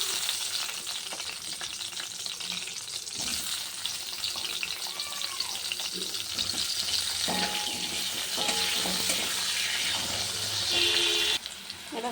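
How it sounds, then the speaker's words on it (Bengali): Potatoes frying in a pan after cauliflower, a steady loud crackling sizzle filling the whole stretch with occasional stirring scrapes and brief clinks, no voices. "দেখো আলুটা ভাজা হয়ে গেছে"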